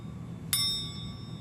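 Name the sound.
metal spoon hanging from a string being tapped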